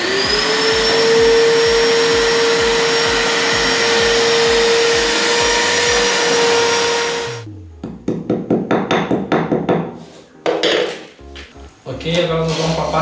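Loud vacuum cleaner roaring close by while clearing dust after drilling holes in a Durafloor baseboard, a continuous whine that cuts off and gives way to clattering knocks and bumps.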